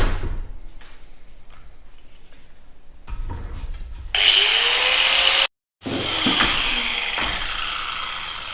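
An angle grinder cutting the top off a steel gas bottle, preceded by scraping and handling noises, then a loud, close, high whine that briefly stops and starts again.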